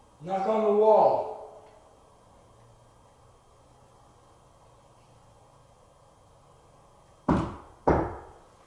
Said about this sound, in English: Knock on the wall.